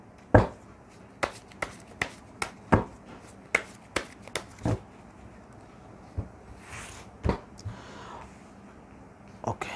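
A traditional tarot deck is handled and shuffled, giving a series of separate sharp card slaps and snaps, close and distinct, spaced irregularly with quiet gaps between them.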